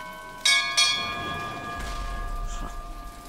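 Bells are struck in a code sequence in BioShock Infinite, two bright, quick metallic strikes close together followed by lingering ringing tones, then a low rumble, with no speech.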